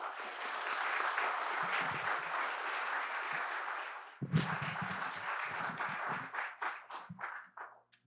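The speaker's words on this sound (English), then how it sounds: "Let's give them another round of applause." Audience applause at a school open house after a group sings a hymn, a full room of hands clapping steadily for about four seconds, then thinning into scattered individual claps as it dies away.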